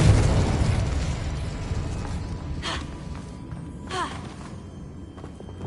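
A Confringo spell blast in the video game Hogwarts Legacy: a dense, rumbling burst that slowly fades, with a couple of short chirping magical effects on top.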